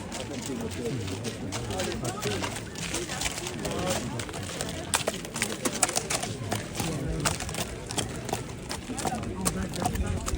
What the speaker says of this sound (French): Et voilà que nous arrivent les gentils chevaux ardennais